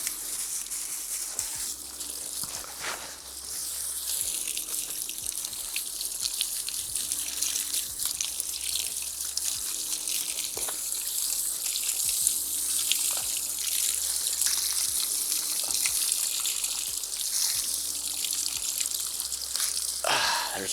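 Running water splashes steadily over freshly taken Premna bonsai cuttings, rinsing them apart, a continuous close wash with a few brief knocks and no talking.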